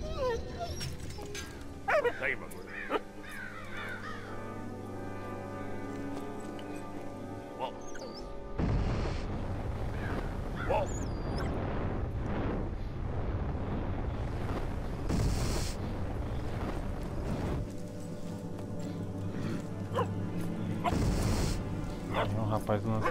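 In the Valiant Hearts: The Great War video game, a dog barks and whimpers in short yips over game music and explosion-like bursts, with someone talking throughout.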